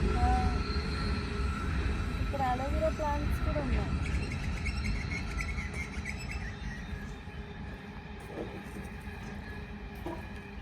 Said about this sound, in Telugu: గూడ్స్ ట్రైన్ అవుతుంది